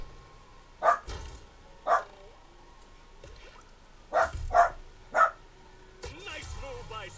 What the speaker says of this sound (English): Sorry about the dog in the background.